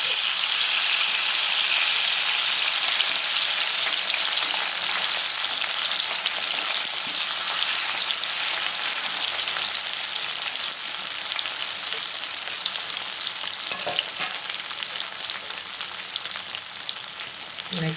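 Stuffed bitter gourds frying in lightly heated oil, giving a steady, dense sizzle that stays fairly loud and even throughout with occasional soft stirring noises.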